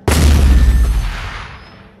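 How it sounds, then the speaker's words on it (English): A volley of railgun fire in Space Engineers during a frigate battle, a sudden, very loud, close blast with a deep booming body that rumbles and fades over about two seconds. "Let's give it another shot with a fairly devastating volley of railgun fire"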